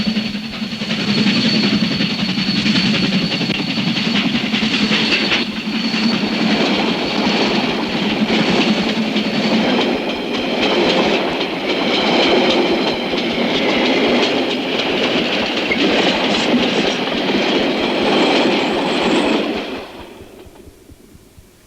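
A train on New Zealand's single line to Arthur's Pass rumbles steadily along the rails with rhythmic clickety-clack and a high metallic whine, then fades abruptly near the end.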